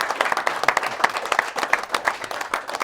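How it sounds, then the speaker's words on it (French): A studio audience applauding as a TV show host walks on, dense rhythmic clapping close and loud throughout with a faint murmur of crowd. "normalement, je dois venir sous les applaudissements"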